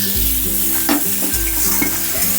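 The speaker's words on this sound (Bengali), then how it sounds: "হালকা করে লাউটা আমি নেড়ে নেব" Cut bottle gourd is stirred in a frying pan for a lau matar vegetable dish, sizzling steadily up close while a spatula scrapes and knocks a few times against the pan.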